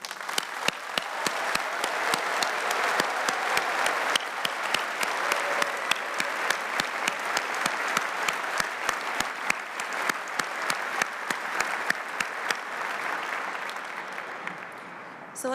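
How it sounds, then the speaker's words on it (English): A graduation ceremony crowd applauds the graduating class in a long, sustained round of dense clapping that holds steady for about fifteen seconds before easing slightly at the end, with some voices underneath. "So let's start with a round of applause for our graduating class."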